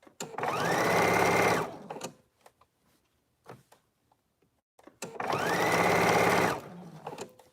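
Sewing machine stitching a dress sleeve in two loud, close bursts of fast whirring, separated by a quiet pause with faint handling clicks.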